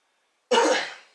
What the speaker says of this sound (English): if you hear me coughing, it's because I'm a smoker